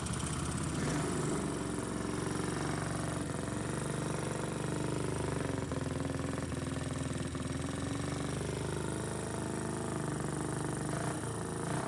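A small carburetted engine runs at a steady idle, a loud continuous close-up drone with an even low rumble and no noticeable change in pace throughout.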